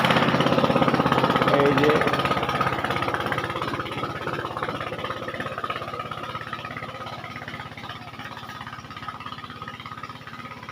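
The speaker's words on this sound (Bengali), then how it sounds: "এই যে এটা নতুন মেশিন, এটা চলছে" A new engine-driven pesticide spray machine runs in a bay leaf orchard, a loud, steady mechanical drone that eases slightly in level over time, with someone speaking briefly near the start.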